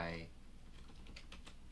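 Typing on a computer keyboard makes a quick run of soft, close key clicks that follows a brief spoken word at the start, quiet and fairly even in rhythm.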